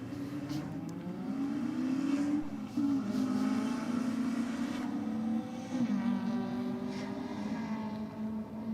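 A Honda and a Falcon race car on a circuit, engines droning steadily at high revs with shifting pitch as they pass, sustained and fairly loud.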